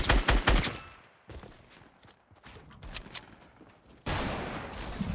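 Gunfire in the Fortnite video game, with loud bursts of rapid shots at the start, scattered sharper single reports through the middle, and a renewed dense barrage near the end.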